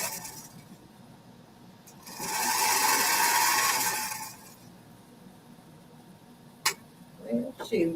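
A home sewing machine stitches in a loud, steady burst of roughly two seconds, with quieter room noise and faint talk before and after it.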